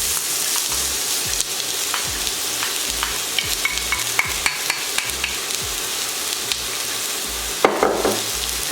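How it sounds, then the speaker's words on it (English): Onion sautés in a few tablespoons of oil in a hot pan, a steady close sizzle broken by repeated scraping and clacking as it is stirred, with a louder rattle near the end. "I'm going to saute this for about 2 minutes"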